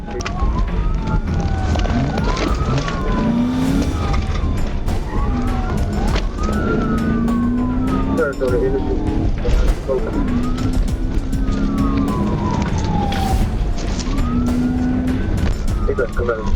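Police pursuit of a speeding Chevrolet Corvette through traffic on Interstate 630, with a loud wailing siren rising and falling repeatedly over continuous engine roar and road noise.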